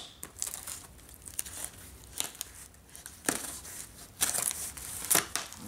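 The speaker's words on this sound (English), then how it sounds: "Just kind of be real careful cutting it open with these scissors." Scissors snip through tape on a poly-bagged comic book package, a few short crisp cuts mixed with plastic crinkling, close up and fairly quiet, with no talking.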